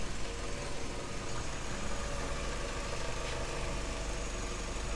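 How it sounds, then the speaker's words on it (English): A 2005 Vauxhall Astra G with a 1.6 Twin Port engine idles roughly with a lumpy, uneven idle, a steady low engine drone heard up close throughout and no speech. "The car is lumpy idle."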